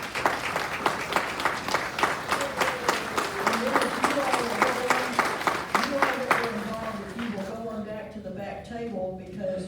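Audience applause for residents asked to stand, a steady patter of many hands clapping that fades as voices talk over it toward the end.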